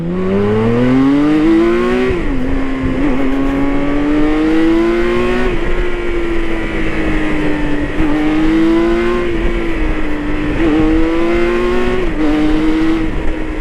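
A K 1600 GTL motorcycle engine with a loud Pure Sound aftermarket exhaust revs through rising gears, pitch climbing then dropping at each shift, close and continuous.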